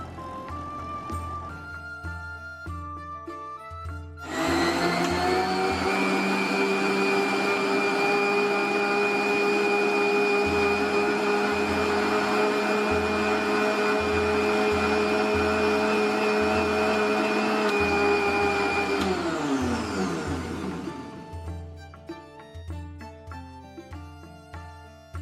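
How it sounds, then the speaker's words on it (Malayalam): Mixer grinder whirring loudly as it blends a pistachio-flavoured milkshake of milk and sugar, starting abruptly after quiet background music and running steadily for about fifteen seconds before winding down. "എന്നിട്ട് നന്നായിട്ട് മിക്സിയിലൊന്ന് അടിച്ചെടുക്കണം"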